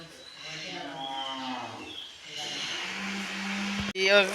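Up close, a cow in rural Konkan gives a long, drawn-out moo, then a second steady low moo, with people talking nearby.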